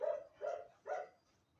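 A dog shut inside gives three loud, close barks spaced evenly about half a second apart, each with a quick sharp onset and a short tail, followed by quiet.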